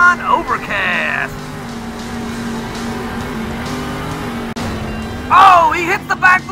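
A monster truck engine in the Monster Jam Steel Titans video game drones steadily, revving up sharply at the start and near the end, while a commentator talks over it throughout.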